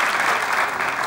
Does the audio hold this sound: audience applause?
yes